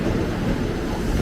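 Commuter train of eight cars on the line to Jakarta Kota arriving at a station platform, a steady low rumble and rolling noise that stays close and even throughout with no talk.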